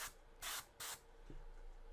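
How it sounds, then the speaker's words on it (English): Black primer is sprayed from a can onto a model in three short hissing bursts, the middle two longer and strong, followed by quiet room hiss. "Put a harder spray down. Get that coverage much better."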